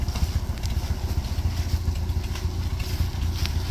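A steady, rumbling tractor engine idles and chugs up close, its low throb continuous with light rattling throughout.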